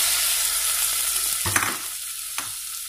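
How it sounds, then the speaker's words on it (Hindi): Chicken pieces fry in olive oil with garlic, giving a steady loud sizzle with a couple of brief stirring scrapes and pops from the pan, close up and without talk. "अब इसको चिकन को मैं थोड़ा सा फ्राई कर रही हूँ।"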